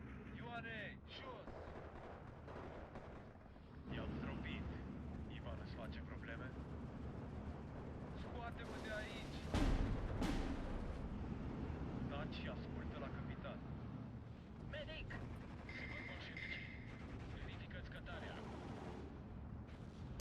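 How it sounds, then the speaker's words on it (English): Mortar fire in the World War II strategy game Steel Division 2 rumbles amid continuous battlefield noise, with a louder blast near the middle and a voice talking over parts of it. "That mortar."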